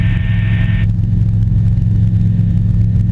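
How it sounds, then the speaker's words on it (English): A light sport aircraft engine roars at full throttle after a stall, a loud, close, steady low drone, with a brief higher whine fading out in the first second. "Break that stall, full throttle, and just a little acceleration."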